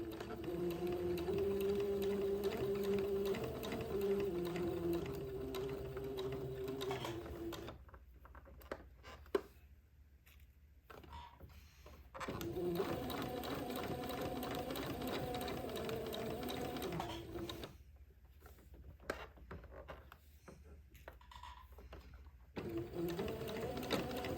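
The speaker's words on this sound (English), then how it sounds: "let me sew this on" Sewing machine stitching baby girl's layette fabric in steady whirring runs, pausing for several seconds between two long bursts before starting up again, close and loud with no talk.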